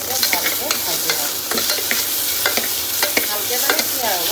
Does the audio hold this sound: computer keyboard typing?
no